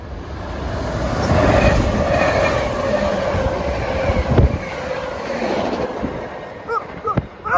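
A westbound train on the Keystone Corridor near Paoli rumbles past with a steady roar of wheels on rail, loud and close, fading toward the end as a few sharp clanks ring out.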